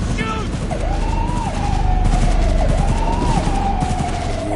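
Rapid gunfire rattles in a Cyberpunk 2077 firefight, loud and continuous, with a wailing siren rising and falling through the barrage.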